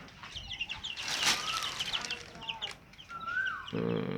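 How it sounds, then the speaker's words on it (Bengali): Egyptian Fayoumi farm chicks about fifteen days old cheep and cluck close by under a room heater, with a burst of wing flapping and scattered peeps, and no one speaks. "মিশরি ফার্মের বাচ্চা,"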